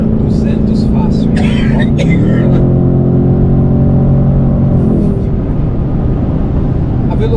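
A 2025 Ford Mustang Dark Horse V8 accelerates hard, a loud, close engine roar climbing steadily through the gears, with a voice talking over it near the start.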